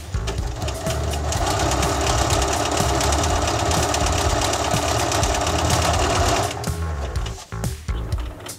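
Bernina sewing machine stitching a denim jeans hem, a fast, steady mechanical whir with rapid needle clatter that runs for several seconds, then slows and stops.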